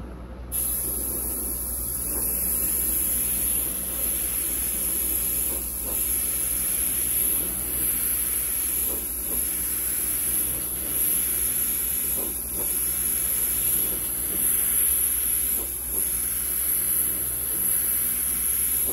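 Spray gun spraying Createx sealant onto a canvas painting, a steady close hiss of air and atomised sealant running continuously throughout, loud and unbroken.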